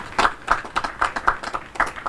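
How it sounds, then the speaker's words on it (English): A small gathering claps in appreciation at a public event, a sparse run of individual hand claps at a quick uneven rhythm, fairly close and brief with no voices over it. "We need to give them a special round of applause today."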